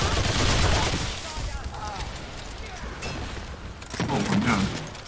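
Gunfire from the video game Remnant 2, a dense burst of shots and booms mixed with loud game effects, with a player talking over the action.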